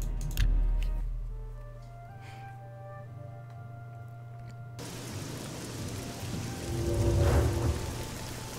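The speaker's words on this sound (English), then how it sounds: "And it's raining. I do enjoy the rain." Rain falling in the Imperial City of the video game Oblivion, a steady hiss of drops on surfaces at moderate loudness with some faint tonal game sounds, swelling slightly toward the end.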